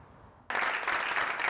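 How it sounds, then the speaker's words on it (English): Audience in the Rockland Unified Schools board chambers bursting into loud, sustained applause and cheering after a passionate speech at an evening board meeting, the dense clapping starting abruptly and holding steady. "Much of the visitors inside Rockland Unified Schools board chambers Wednesday night cheering after a passionate speech from Marty Munn."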